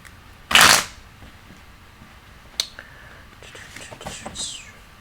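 A tarot deck shuffled by hand, a sharp riffling burst followed by softer scattered card flicks and taps, close and quiet.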